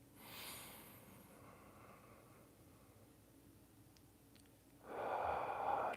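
Slow breaths drawn in and out through the nose, a soft airy exhale at the start and a louder, rushing breath near the end, close and quiet with no talking.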